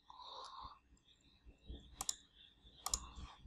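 A few isolated, crisp computer mouse clicks, faint and close, spaced apart against a near-silent room with small incidental noises in between.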